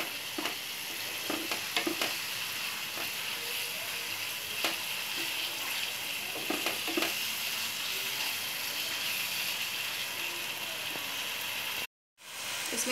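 Cauliflower with tomato sauce fries in a pan with a loud, continuous sizzle and scattered clicks and scrapes from stirring, then cuts off abruptly near the end.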